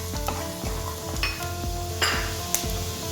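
Chopped onion and fried sandge sizzling in oil in a pan for a Goan coconut curry, a steady crackling fry punctuated by regular scraping stir strokes, close and moderately loud.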